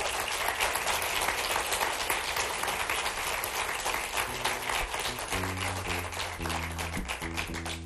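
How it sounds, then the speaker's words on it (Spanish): A studio audience applauds Erick Lonis on a talk show: dense, steady clapping fills the room from start to finish, with a musical tone rising beneath it in the second half. "Un aplauso"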